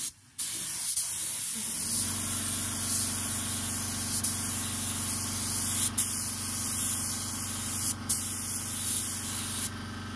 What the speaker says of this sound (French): Une couche de noir, deux voiles de chrome, et après je passe au vernis.